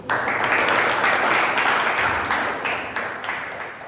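A Toastmasters club audience gives a steady round of applause for the next meeting role-holder, dense, continuous clapping that holds throughout and tapers slightly toward the end.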